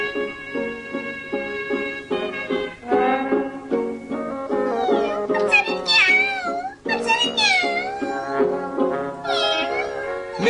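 A cat meows repeatedly in a 1979 film scene at a market, its rising and falling cries layered over sustained music that plays throughout.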